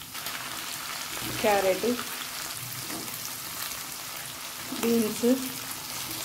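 Onions and green chillies frying in a pan for semiya upma, a steady soft sizzle running throughout while a person speaks briefly in two short bursts over it.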